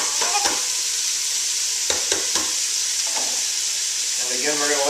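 Half a bulb of garlic sautés in a pot of vegetables for lentil soup, a steady loud sizzle with a few sharp stirring scrapes and clinks over it, close by, with no talk.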